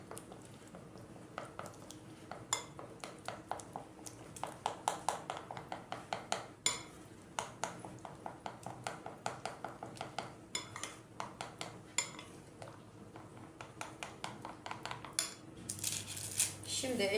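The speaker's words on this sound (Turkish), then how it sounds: "Bir tane de yumurtamın sarısını kullanıyorum ve çırpıyorum." An egg yolk is whisked with warm water in a bowl for a pide dough glaze. The whisk gives a rapid, steady run of light clinking strokes against the bowl throughout.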